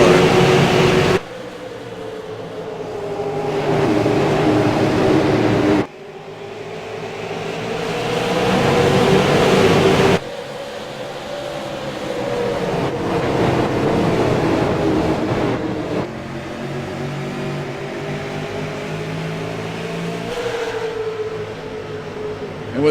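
Race cars in a SARA series event at Lucas Oil Raceway roar as they accelerate after the green flag, their engines rising and sweeping past in loud passes with abrupt cuts between camera angles and no voices.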